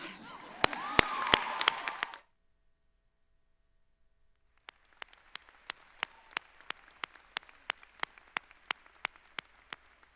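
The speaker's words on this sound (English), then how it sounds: "Let's clap for him one more time" Audience clapping at a college graduate hooding ceremony, a burst of dense applause for about two seconds, then silence, then sparse, evenly spaced single claps continuing, fairly faint in a large hall.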